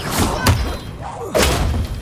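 Expelliarmus spell cast in a Harry Potter video game, two heavy thumping magical blasts with sweeping whooshes, one near the start and another after a short pause.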